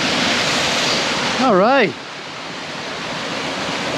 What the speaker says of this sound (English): I'm crossing a river.